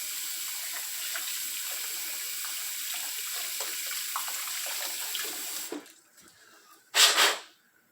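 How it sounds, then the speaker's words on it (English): Bicycle parts rinsed under a running tap: a steady, close stream of water splashing for several seconds, then stopping, followed by a short final burst of water. "Give them a little rinse."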